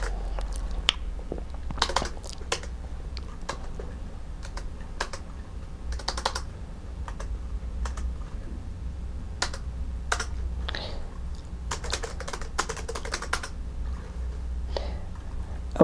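Typing on the six Braille keys of a note-taker keyboard that also has enter and backspace keys: irregular bursts of sharp, close plastic key clicks, sometimes clustered and sometimes spaced apart, continuing throughout with no talk.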